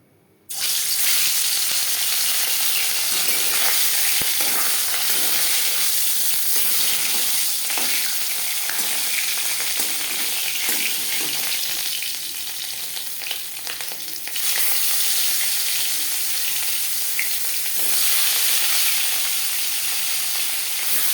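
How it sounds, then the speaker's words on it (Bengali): Pieces of Bhetki fish fry in hot refined oil, a loud, constant close-up sizzle with crackling spits and bursts that starts abruptly and continues for the whole stretch, no speech. "সবার প্রথমে আমি মাছ ভেজে নেব এর জন্যে আমি চার চামচ রিফাইন্ড অয়েল গরম করে নিয়েছি"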